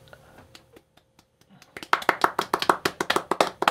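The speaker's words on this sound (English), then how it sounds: "Claps for all the people that work in animation" A few soft taps give way to a small group's close, brisk clapping, sharp individual claps in a quick uneven rhythm during a casual animated-film review chat.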